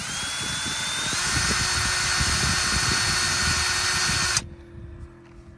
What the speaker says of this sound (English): I'm going to take the drill and I'm going to insert a couple of screws